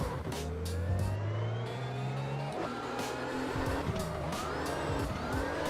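Drifting car engine in the video game CarX Drift Racing 2, a loud, sustained revving whine that climbs and drops in pitch, with tire-skid noise and scattered sharp bursts woven through it.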